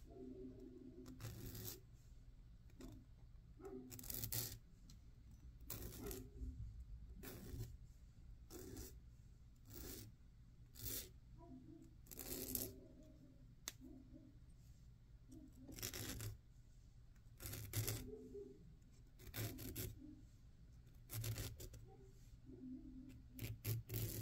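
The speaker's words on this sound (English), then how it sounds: "I'll just use my jeweler's file and clean up this end a little bit," A jeweler's file rasps against the end of a wire on a small wire-wrapped pendant, giving quiet, repeated short scraping strokes in an irregular rhythm with brief pauses between them, close up and alone.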